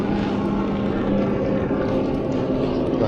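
Jet ski motoring on the Swan River in Perth, a steady droning engine hum with water wash, fairly loud and continuous for a few seconds, no voices.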